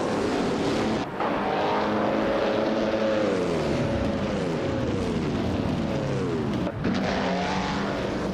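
Engine sound of a vintage 1952 Ferrari 375 Indy race car in a racing video game at the race start, a loud continuous drone with rising and falling pitch sweeps as it accelerates and shifts, with a brief dip near the end.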